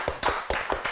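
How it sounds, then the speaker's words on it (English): Four or five crisp, close hand claps in an uneven rhythm, a brief small burst of clapping from a few people rather than full applause. "Round of applause."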